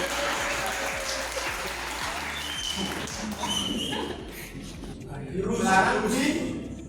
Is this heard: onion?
no